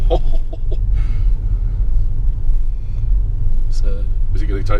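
A Tesla car in self-driving mode on a road, heard from inside as a steady low engine-free rumble and road noise, with people talking over it throughout.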